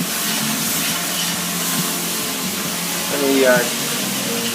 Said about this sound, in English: crank the heat, add the tomatoes, and I'm going to give it a bit of a stir